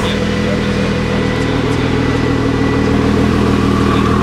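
A sports car fitted with an Akrapovic exhaust, at an outdoor car show on a hot day, rumbles steadily up close with a low, even idle and slight rises in revs, without pause throughout.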